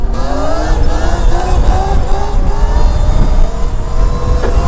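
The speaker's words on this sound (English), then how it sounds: "It just wants to pick up and take off every time you hit that throttle" A 30 kW Surron electric dirt bike pulls hard under throttle, with rising motor whine and rushing noise, loud and close for several seconds.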